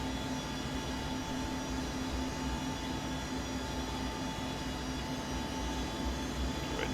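An ERJ 145 jet climbing out after takeoff, a loud, steady engine roar with a constant whine, heard from inside the cockpit without a break.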